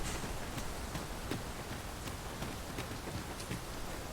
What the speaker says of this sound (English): This downpour seems unlikely to abate. We cannot hope to wait it out.